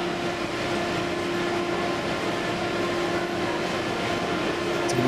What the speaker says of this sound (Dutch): En hier dan het Westbaan dubbeldeksmateriaal.